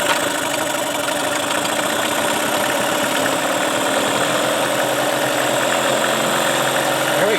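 A Tracker boat's Mercury 9.9 outboard motor runs steadily on choke, a loud, continuous close-up engine chug with a rough, knocking idle throughout and no talk.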